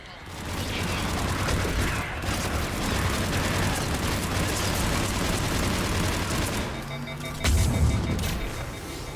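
Dense, continuous battle noise from Mass Effect 3: missile explosions and rolling gunfire keep up a steady roar, with a heavier booming impact near the end.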